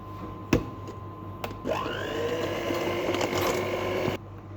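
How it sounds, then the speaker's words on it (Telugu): Close, steady whir and grind of an electric hand mixer beating 200 grams of butter with two cups of sugar for a fruit chocolate cake, starting after a sharp clack and running continuously with no talking. "టూ కప్స్ షుగర్ ఇప్పుడు ఇది బీట్ చేసుకుందాం"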